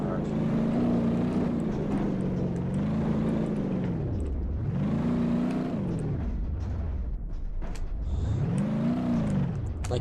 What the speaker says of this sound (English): Like that handbrake turn.